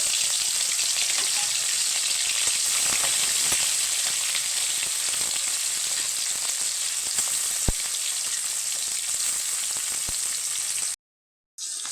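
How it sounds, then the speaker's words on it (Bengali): Shrimp frying with turmeric in a pan over low heat, a steady close sizzle with a few faint stirring clicks, running continuously before a brief cut to silence at the end. "এই যে চিংড়ি মাছটা ভেজে নিচ্ছি"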